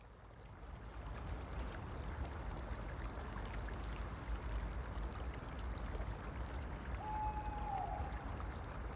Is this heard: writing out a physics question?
no